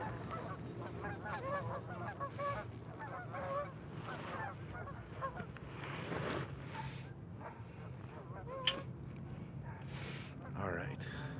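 Geese honk repeatedly as a flock takes off outdoors, their calls rising and falling at a moderate distance while someone talks over them.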